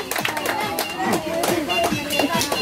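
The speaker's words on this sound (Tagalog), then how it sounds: "Palakpak, palakpak, palakpak!" Several people clap together at a steady pace at a community charity event with games and prizes, with excited voices and chatter mixed in close by.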